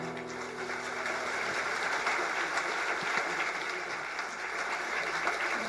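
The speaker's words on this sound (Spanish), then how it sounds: "Levántele un voto de aplauso a mi papá." Church congregation applauding steadily in a dense, continuous wash of clapping that holds at an even level throughout, with faint voices mixed underneath.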